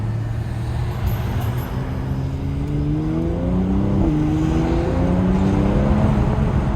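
A 2019 Mercedes-AMG GLC 43 Coupe engine in Sport Plus mode drones loudly and steadily inside a tunnel, its pitch climbing as it revs and accelerates, with a reverberant, enclosed quality.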